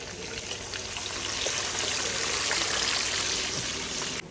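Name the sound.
pangas fish being poured into hot oil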